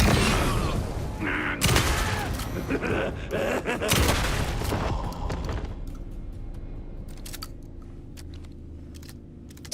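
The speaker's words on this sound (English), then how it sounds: "headshots from a shotgun to kill these guys. At point blank." Shotgun blasts in Alan Wake 2, fired at point blank into enemies' heads: two loud, sharp booms a couple of seconds apart, followed by a quieter stretch with scattered clicks and rustling.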